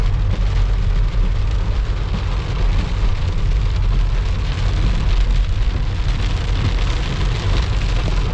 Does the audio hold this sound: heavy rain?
yes